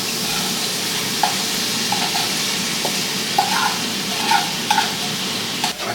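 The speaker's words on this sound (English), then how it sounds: "So I'm adding the butter to the skillet. Now we're gonna add the glaze to it as well." Butter and rib glaze sizzle in a hot skillet, a continuous close frying hiss broken by scattered pops and spoon-stirring clinks, with no talking.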